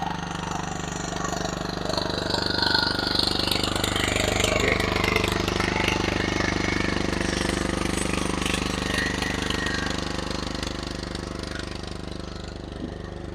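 An engine pumps water into a paddy field where kuruva rice is being harvested, a steady mechanical chugging and rattling drone that holds loud for most of the stretch and eases slightly toward the end.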